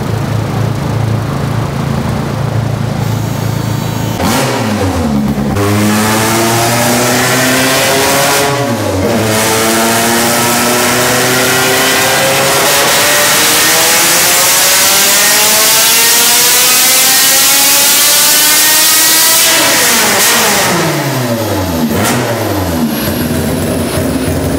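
Honda Civic with an M1 engine making over 400 hp, revving hard on a dyno in repeated pulls, rising to a loud screaming wail then dropping sharply, very close and loud throughout.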